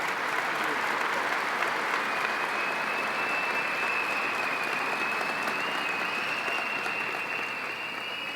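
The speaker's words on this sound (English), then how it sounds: "A round of applause for Bill." Sustained applause from a conference audience at an opening show, dense steady clapping filling the room throughout, without pause or talk over it.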